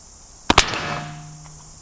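A CVA muzzleloading black-powder rifle fired with homemade black powder: one loud close boom with a quick double crack, then a reverberating tail that fades over about a second, with no talk.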